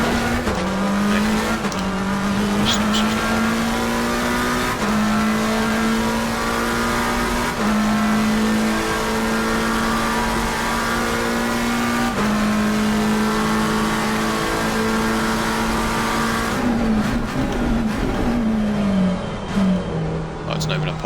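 In an Xbox racing game, a race car engine revs hard and climbs through the gears, its pitch dropping at each shift. Tires squeal now and then under continuous loud engine noise, and a voice talks over it.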